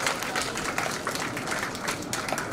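Audience applause at a stage event honouring a guest, dense and steady clapping from a crowd that fills the whole moment without pause.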